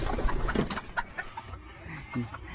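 Captured red junglefowl, called labuyo, cluck in short irregular bursts close by in a large pen, with a person talking softly in between.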